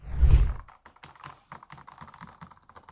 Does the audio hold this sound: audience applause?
no